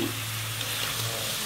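Lemongrass braised tofu sizzles and fries in a pan with a constant, close crackle as it is stirred, and no voices are heard.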